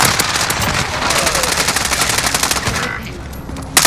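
Sustained bursts of machine-gun fire in Call of Duty: Modern Warfare, loud and close, rattling on for several seconds before easing off, then a single sharp shot right at the end.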